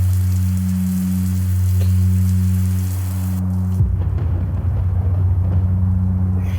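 Rain falls steadily in a scene from a Thai TV series, a constant patter of drops over a low tonal hum that drops out and then shifts partway through.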